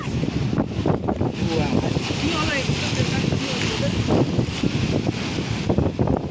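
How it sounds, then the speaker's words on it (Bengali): Strong wind buffets the microphone steadily at a riverside fish market by boats, with voices talking throughout under the roaring gusts. "এখানে প্রচন্ড হাওয়া হচ্ছে তো, দাঁড়াতে পারছে না, আর চুল উড়ে যাচ্ছে ওই জন্য।"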